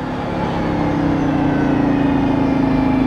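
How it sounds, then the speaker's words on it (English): Bugatti Veyron Grand Sport Vitesse convertible engine with wastegate, heard from inside the car with the roof off and the intakes right behind the seats: a loud, steady, rising engine drone with a sustained tonal whine, no talk over it. "The wastegate sound is so good."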